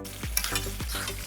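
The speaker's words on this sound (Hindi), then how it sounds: "अब इस स्टेज पे हम मज़ीद इसमें 1 से 2 कटी हुई हरी मिर्चें शामिल करेंगे और इसे मज़ीद 1 से 2 मिनट के लिए भूनेंगे।" Mutton karahi with chopped green chillies is stir-fried in a pan, giving a loud continuous sizzle with a couple of sweeping scrapes of the utensil against the metal.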